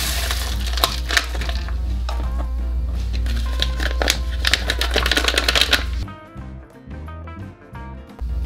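Gold paydirt shaken through a kitchen strainer gives a dense, gritty rattle of small stones and grit scraping against mesh, steady and close, then easing into sparser clicks and taps.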